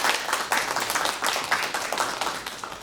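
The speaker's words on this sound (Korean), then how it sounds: "큰 박수로" Audience applause at an academic award ceremony, dense steady clapping from a crowd that fills the whole moment at close, loud level with no voices over it.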